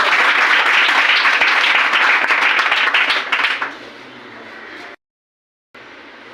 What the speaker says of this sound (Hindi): जानवी के लिए जोरदार ताली बजाइए।